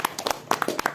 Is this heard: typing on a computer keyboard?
no